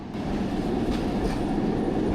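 City tram rolling past nearby: a steady, loud rumble of wheels on rails with faint clatter, continuous throughout with no voices.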